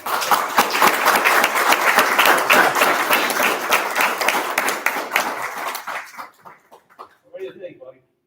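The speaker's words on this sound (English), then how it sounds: "And maybe a round of applause for this gentleman." A town board meeting breaks into loud, dense applause for about six seconds before it thins to scattered claps and dies away.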